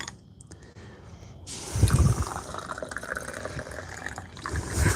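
Water is poured from a kettle into a small gongfu tea vessel for an infusion, a soft splashing fill that swells partway through and continues steadily, close by and without speech.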